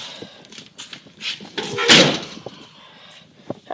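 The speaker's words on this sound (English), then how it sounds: "I have to slam the door because the door's basically broken." An old, dusty, rusty car with a broken door that has to be slammed shut: bumps and rattles build to one loud thud of the door closing, followed by quieter knocks nearby.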